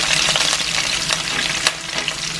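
Onions, peppers and garlic sautéing in a pan, a loud close crackling sizzle with brief bursts of stirring, heard alone.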